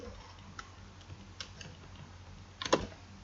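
Computer keyboard typing while entering Python code, a few soft scattered keystrokes and then a quick cluster of clicks near the end, faint and close, with no talking.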